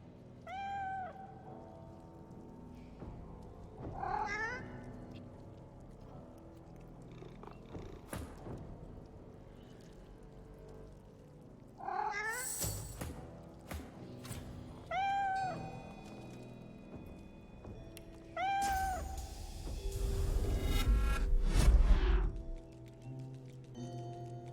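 An undead cat in the video game Divinity: Original Sin 2 gives a series of drawn-out, moderately loud meows spaced across the scene, mixed with soft purring, game ambience and occasional ticking effects.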